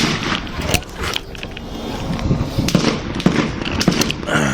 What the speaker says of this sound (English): That sounds like a M14 single shot rifle.